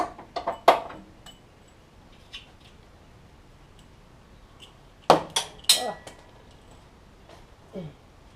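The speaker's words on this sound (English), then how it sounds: "So, just removing this bolt." Sharp metallic clicks and taps while removing a bolt from a Honda Civic FA5 Mugen Si engine during a cracked block replacement, two short bursts of close, distinct knocks separated by quiet.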